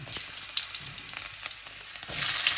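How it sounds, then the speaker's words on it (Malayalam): Garlic drops into hot oil in a small pan and sizzles with a crackling, spitting hiss that swells louder toward the end, with a few light clicks of utensils. "എണ്ണയൊന്ന് ചൂടായി നമുക്കിച്ചിരി വെളുത്തുള്ളി ഇടാം"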